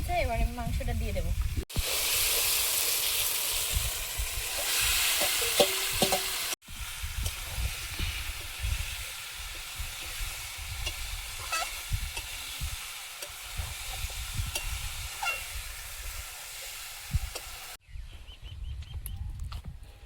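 Meat fries in spiced masala whose oil has separated as it is stirred in a pan. A crackling sizzle comes with scraping stir strokes across several cut sections, and a voice is briefly heard at the start.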